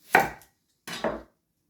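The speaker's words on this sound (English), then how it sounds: "Add some onions, slice" A knife slices through onions in two distinct strokes, each a close, crisp crunch, with a short pause between them and silence around them.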